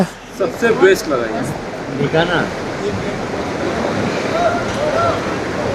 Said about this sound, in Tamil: Oh my God, water falls.